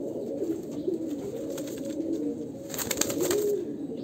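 A pair of old-line Andhra pigeons with pearl-type eyes coo in steady, rolling low calls, close by and continuous, with no talking.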